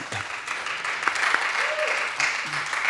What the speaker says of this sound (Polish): Prosimy o oklaski.